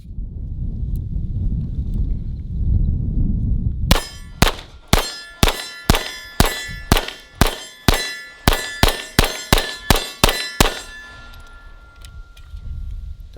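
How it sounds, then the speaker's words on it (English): A CZ-75 B pistol (Cold War Limited Edition) fires about sixteen loud, sharp, ringing shots in a quick, fairly even string, then stops. "I'm gonna put some more ammo in it and shoot some more out of it."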